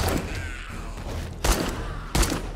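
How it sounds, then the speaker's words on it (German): Two separate controlled shots from a submachine gun in the zombie survival video game 7 Days to Die, each a sharp, loud bang, spaced apart over low in-game ambience. "Ja, kontrollierte Schüsse daneben"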